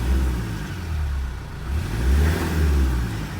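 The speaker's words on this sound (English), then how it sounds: "We'll just give her a few little revs to see how she sounds." A Mitsubishi L200 Triton's 4D56 diesel engine, just repaired after a snapped timing belt, is revved in a few rising and falling swells over a low idle, close and loud.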